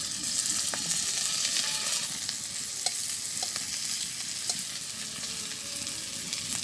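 Onion and chili fry in oil, keeping up a continuous sizzle while a spatula clinks and scrapes against the pan at irregular intervals.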